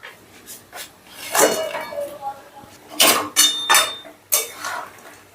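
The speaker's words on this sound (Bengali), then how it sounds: "এবারে জলটা মিশিয়ে নিয়ে দিয়ে দিচ্ছি ভেজে রাখা চিকেনগুলো।" Fried chicken pieces dropped into chilli sauce in a cooking pan, with close clinks and scraping of utensil against metal, several sharp bursts among softer stirring sounds; a voice can be heard speaking over it.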